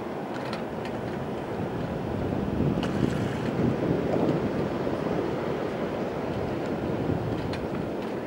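Heavy ocean swell and surf surge steadily around an anchored cruising sailboat, a broad continuous roar of breaking waves with gusting wind buffeting the microphone, no voices present.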